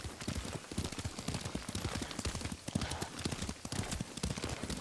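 Steady clip-clop of horse hooves at a riding pace in Ghost of Tsushima, a close, continuous rhythmic beat with no talking.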